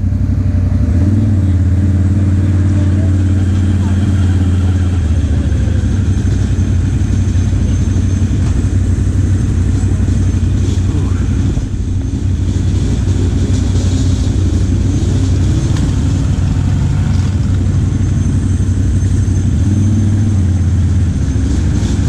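A 4-wheel drive vehicle riding alongside dirt bikes at an off-road park, its engine droning loud and steady throughout, with faint rises in revving and rough rumble from the trail.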